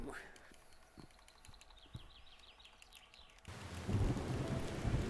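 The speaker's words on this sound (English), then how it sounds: "Thunder." A thunderclap in the video game Crumble: a low rolling rumble that swells and stays loud, with a rain-like hiss over it.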